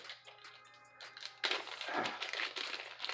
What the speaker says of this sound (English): Plastic bag struggles is real.